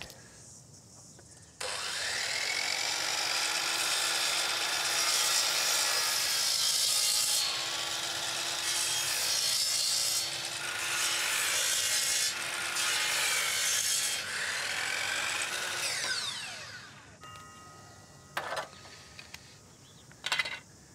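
A saw rips through a piece of timber for a wooden gate, a loud, steady rasping cut lasting about fifteen seconds, close by, followed by a few faint knocks and clatters.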